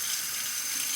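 A razor is rinsed under running tap water, a close, steady rush of flowing water that fills the whole short moment without a break.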